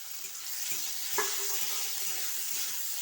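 Cut okra sizzling loudly in hot mustard oil with a pinch of turmeric, a steady close hiss broken by a single sharp clink of a utensil against the pan.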